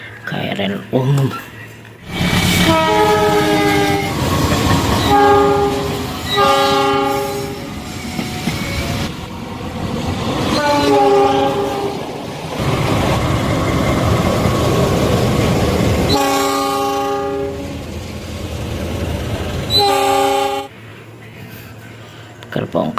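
A KRL commuter electric train passes nearby, loud and steady, with repeated bursts of its tonal horn over continuous wheel rumble and clatter.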